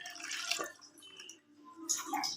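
Water trickles and drips into freshly ground rice batter, thinning it for goti atakali, a soft pouring splash close by that swells twice over a couple of seconds.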